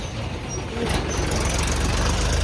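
A tractor engine running at a farmers' protest on the Khanauri border, a loud, rough continuous rumble that swells after the first second, close by and steady.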